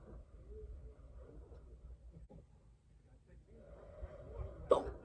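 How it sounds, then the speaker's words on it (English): A single sharp hiccup from a person trying to get rid of persistent hiccups, close to the mic near the end, over a quiet indoor room hum with faint voices in the background. "I have to get rid of these hiccups because I will literally almost throw up if I don't."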